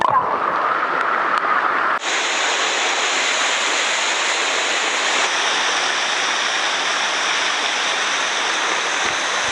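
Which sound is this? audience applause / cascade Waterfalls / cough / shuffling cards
cascade Waterfalls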